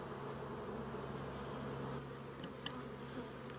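Honey bees buzz steadily around an open backyard hive during a frame inspection on a ranch, a continuous close droning hum that holds level throughout with a couple of faint clicks near the end.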